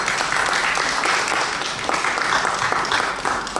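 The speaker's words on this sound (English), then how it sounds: "I would like to have a round of applause for all of them" A seated audience at a strategic forum in Miami applauds its panelists, with steady, dense clapping filling the room and holding at an even level from start to finish.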